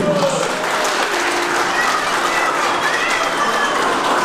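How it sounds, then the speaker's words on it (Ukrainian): Wedding guests applaud, a loud, continuous roar of clapping that holds steady throughout, with crowd voices and a faint tonal line mixed underneath. "Гості аплодують."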